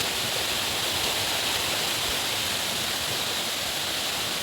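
Water in a mountain stream rushes steadily in a broad, even hiss, close and constant with no voices over it.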